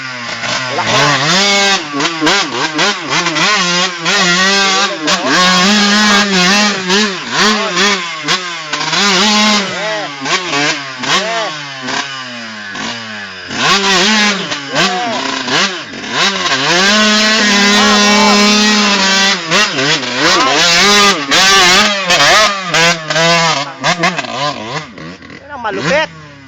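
A motorcycle engine revs hard and steadily while climbing uphill, loud and close with pitch rising and falling throughout, as excited voices talk over it.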